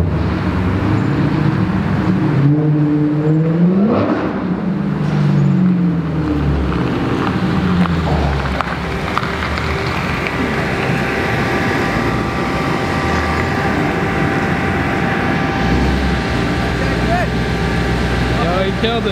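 A 1000-horsepower car does a burnout, its engine roaring loudly and rising in pitch as it revs, then settling into a sustained, rough, heavy drone. Voices are faintly audible in the background.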